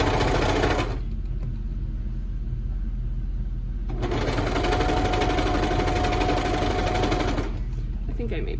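A cover stitch sewing machine running two needles hems a T-shirt, its steady rapid whir sustained for a second, pausing, then resuming for several seconds with no talk over it.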